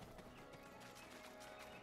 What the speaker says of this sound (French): Je récupère mon cheval.